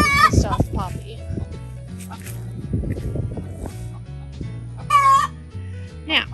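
Hens clucking and squawking near a plastic Eglu coop and nesting box, with several loud, agitated calls and cackles close by, under and between a person talking.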